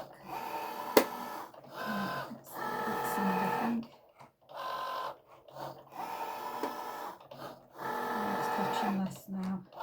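A Cricut Joy Xtra cutting machine cuts an accordion box card, giving repeated whirring motor passes that start and stop in a steady cycle, loud and close, with a voice talking at times.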